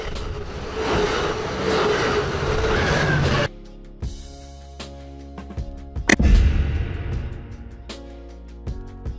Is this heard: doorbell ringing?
no